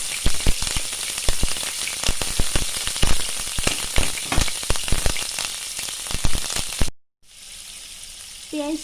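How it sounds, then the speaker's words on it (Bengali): Onion paste fries in hot oil with a loud, steady sizzle full of sharp crackles and pops for about seven seconds, then cuts off abruptly into a quieter background. "আমি পেঁয়াজটা একটু 1 মিনিটের মতন ভেজে নিচ্ছি"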